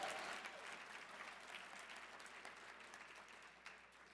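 Audience applause from a crowd at a St. Louis Science Center science talk, steady dense clapping sustained throughout at a fairly soft, distant level with no talking.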